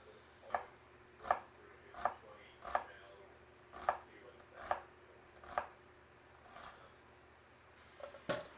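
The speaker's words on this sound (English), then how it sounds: "let me chop up my onion" A knife chops through a yellow onion on a board in about ten crisp, evenly spaced cuts, close and clear, with a few quicker cuts at the end.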